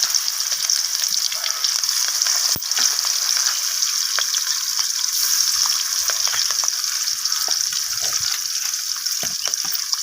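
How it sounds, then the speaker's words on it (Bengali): Rohu fish pieces fry in hot oil in a wok with a loud, dense, continuous sizzle and crackle. There are occasional sharper pops and a brief knock from the pan. "এরপর আমি তেলের মধ্যে একে একে মাছগুলো দিয়ে মাছগুলোকে ভালোভাবে উল্টে পাল্টে লাল লাল করে 2"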